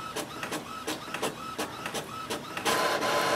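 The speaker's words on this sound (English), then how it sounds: "sent the print command quickly and it has started to print" An Epson WorkForce WF4830 inkjet printer runs a print job close by, with a series of rhythmic mechanical whirs and clicks from the print head shuttling back and forth, ending in a louder sustained paper-feed rush.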